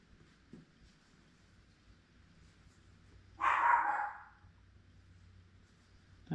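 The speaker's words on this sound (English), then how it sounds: "I have no idea what she's barking at." A single sharp dog bark rings out in a quiet room where someone sews quilt appliqué, and a low hum hangs in the background before and after it.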